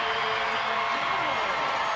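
A WNBA arena crowd roars after a three-pointer in a Phoenix Mercury versus Golden State Valkyries game, a dense, sustained cheer that stays loud and even for two seconds.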